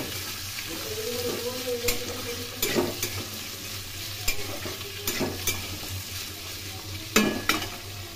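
Chopped onion and red chilies sizzle in hot oil for a pumpkin curry, a steady crackle broken by several sharp spatula scrapes and stirring knocks against the pan, close and clear with no voices.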